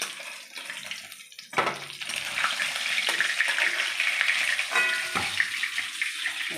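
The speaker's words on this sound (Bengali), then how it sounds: "মাছগুলো ভাজার জন্য আমি এক এক করে কড়াইয়ে দিয়েছি" Katla fish frying in a wok of hot oil, a steady hissing sizzle that swells after a few sharp spits and crackles, close and continuous with no voices.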